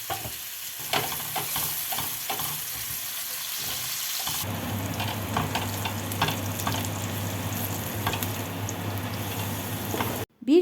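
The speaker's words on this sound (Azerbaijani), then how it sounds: "bir baş böyük soğanı doğrayıb həmin yağda qızardırıq." Chopped onion fries in oil in a pan, first with quieter stirring and clatter, then a steady loud sizzle from about halfway that continues almost to the end; no talking.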